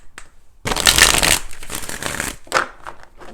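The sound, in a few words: shuffling tarot cards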